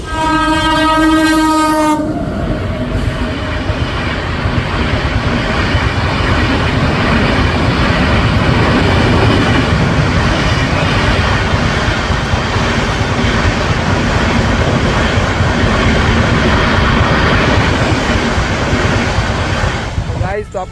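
At a closed railway level crossing in Junagadh, a loud train horn blares briefly, then a train rumbles past close by with continuous rattling and clattering wheels.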